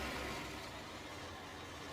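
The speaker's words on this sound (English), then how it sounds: "It's quite noisy, that tractor." A tractor engine with a front loader and bucket in a farming simulation game, droning steadily and fairly loud with no talk over it.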